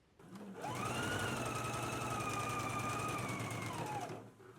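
A sewing machine runs a steady continuous stitch along a 5/8-inch seam allowance for about four seconds, close and fairly loud with a constant motor whine, starting and stopping cleanly.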